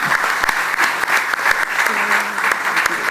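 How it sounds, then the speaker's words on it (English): Audience applause for the eight finalists of a corporate quiz final, a dense, steady wash of clapping from a live crowd that holds at full strength throughout with no one speaking over it. "hand you back to Stuti, can we have a thunderous applause for all these 8?"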